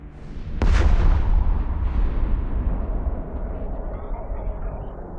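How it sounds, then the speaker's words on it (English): A spaceship explodes in the video game EVE Online: one sharp, heavy boom that rolls into a long, rumbling decay fading over several seconds. "That's a cool explosion."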